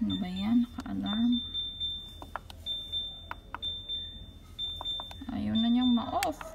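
A household refrigerator gives off an alarm of sharp electronic beeps that repeat in short bursts and keep going while a person nearby talks over them.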